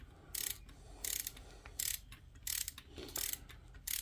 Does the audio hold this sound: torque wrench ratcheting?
yes